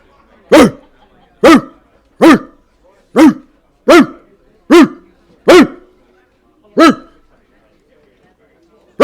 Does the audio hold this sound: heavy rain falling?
no